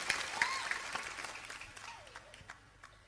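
Applause from an audience at a public religious gathering held for the centenary of the Persaudaraan Setia Hati Terate martial arts brotherhood in Kotawaringin Barat, a faint, distant patter of clapping with scattered sharper claps across the whole stretch.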